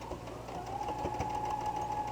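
A sewing machine stitches a quilted jelly roll hotpad, its motor running with a steady mechanical whir and rapid needle chatter, close and continuous throughout.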